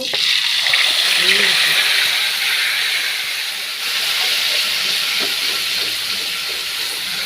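Bay leaf and garlic fry in hot oil for pav bhaji, giving a loud, steady hiss and sizzle that runs throughout with little change.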